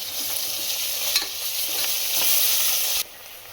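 A spoonful of ginger garlic paste hits a hot pan and fries with a loud, bright, close sizzle while being stirred, then the hiss drops suddenly near the end.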